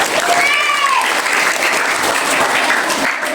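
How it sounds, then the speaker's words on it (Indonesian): A crowd at a Maulid Nabi celebration applauds loudly and continuously, thick close clapping with some voices mixed in and a brief ringing feedback-like whine early on. "Mari kita beri tepuk tangan yang meriah."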